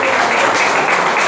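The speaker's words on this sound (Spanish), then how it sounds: "El aplauso bien fuerte para ella, pero que suene bien fuerte" A crowd applauds for a woman's 90th birthday at a celebration, a steady dense wash of clapping that carries loud and continuous through the short stretch, with no clear voice rising above it.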